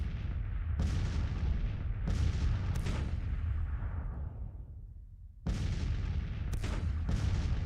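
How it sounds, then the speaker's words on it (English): Batteries of Napoleon cannons bombard during a Civil War battle at Baltimore in Grand Tactician, firing a string of heavy booms at irregular intervals, each followed by a long rolling rumble. "we've got 2 batteries of 15 and 13 guns respectively of Napoleons bombarding"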